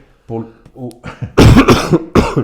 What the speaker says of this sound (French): Une fois que tu as toussé